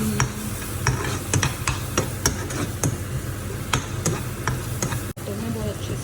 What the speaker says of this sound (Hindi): तो मैं बहुत अच्छे से सौटे कर लेंगे